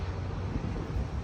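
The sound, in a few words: wind on a condominium balcony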